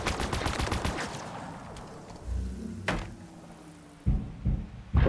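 Gunfire in the video game Halo Infinite: a fast rattling burst that fades out, followed by a few separate heavy thuds and single shots spaced apart, fairly close.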